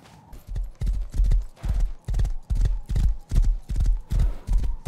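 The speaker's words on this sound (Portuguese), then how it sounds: "meu cavalo comeu uma lata de feijão e ficou parecendo um trem-bala" A horse gallops in the video game Rust, with rapid, even clip-clop hoofbeats in a strong repeating rhythm, loud and close, with no talk.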